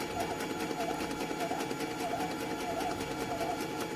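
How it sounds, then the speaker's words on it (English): A Focus Nebula-Jet A2 DTG T-shirt printer runs its power-cleaning cycle, pumping ink from the tank to the print head with a steady mechanical whir. Faint pulsing ticks recur about every half second, and the sound is continuous and close. "the machine where the printer will be start to pump the ink"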